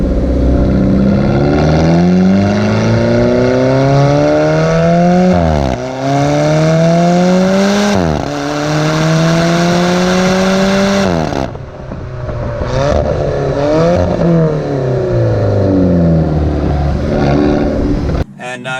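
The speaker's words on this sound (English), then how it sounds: "I have the optional sport exhaust, which is basically a straight pipe." A loud Alfa Romeo 4C Spider sport exhaust revs repeatedly, rising and falling in pitch with a harsh, raspy straight-pipe roar, close by, then cuts off abruptly near the end.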